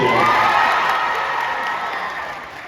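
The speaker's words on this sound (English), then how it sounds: "So my one got me a cheer" A convention crowd at a Sonic Expo voice acting panel in Dallas cheers and whoops loudly, the roar starting strong and slowly fading, with no talk over it.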